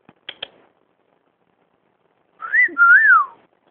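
A pet bird gives a short, clear two-part whistle with a rising then falling tone, heard alone after a couple of faint clicks.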